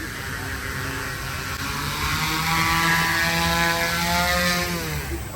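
A student-built model jet plane flies outdoors, its steady whining engine roar rising in pitch and holding loud throughout, with a continuous rumble underneath.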